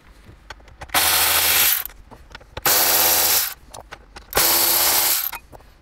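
Three long, loud bursts of a power tool or ratchet driving out 10 millimeter bolts from a Toyota 4Runner dash, each lasting about a second, separated by lighter clicks and handling noises nearby.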